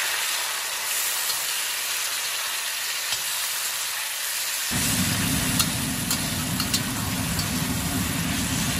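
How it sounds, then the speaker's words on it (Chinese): Tomato chunks hit a hot wok already holding scallion, ginger and garlic for a braised eggplant and tomato dish. A steady broadband sizzle jumps louder and fuller about halfway through, continuing as a dense frying hiss with no talk. "翻炒，炒出香味，再下入西红柿块，"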